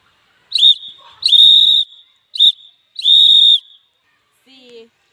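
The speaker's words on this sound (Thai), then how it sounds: "หวีดสั้น1 ครั้งหวีดยาว1 ครั้งสลับกันไป" A scout whistle sounds a signal of short and long blasts in alternation, four loud, shrill, close-up blows with brief gaps between them.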